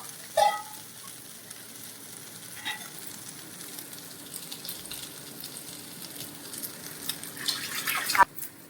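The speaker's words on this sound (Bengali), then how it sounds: "এবার ওই চিনি দিয়ে দিচ্ছি নারকেল ভাজাটায়, একটু মিষ্টি মিষ্টি ভালো লাগবে।" Coconut frying in a pan with sugar added, a quiet ongoing sizzle broken by a few clinks and scrapes, with a sharper knock near the end and louder frying toward the finish, no speech.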